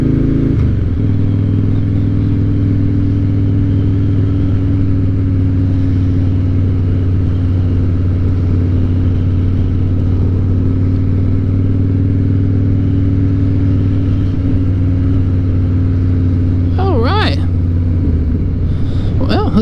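Steady low rumble of a Harley-Davidson motorcycle engine while riding, a constant droning idle-to-cruise note throughout, close and loud, with brief higher noises near the end.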